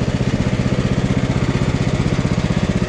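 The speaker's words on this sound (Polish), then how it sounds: "Mama jeszcze zwykłą kosiarką poprawia." A push lawn mower cuts grass in a rural Polish yard, its small engine droning loud and close with a steady rhythmic chug that never lets up.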